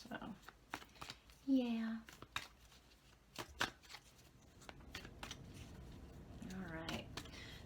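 Quick, crisp riffling and slapping of tarot cards being shuffled in short bursts, with a brief spoken word and a faint hum near the end.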